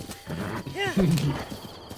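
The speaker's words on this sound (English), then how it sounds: "And there's more horses off in the distance." Horses whinny and hooves clip-clop in the open wilderness of the Zelda: Breath of the Wild video game, a rising neigh in the middle over steady ambient game sound, with a person talking alongside.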